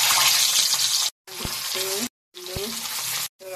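Potatoes frying in a pan, a steady loud sizzle broken by brief silent gaps, with short clinks of a utensil against the pan.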